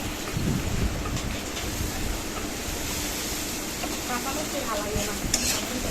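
Fish coated with chili powder, salt and turmeric is stirred in a hot pan, a continuous dense sizzle with scraping and rustling strokes running throughout.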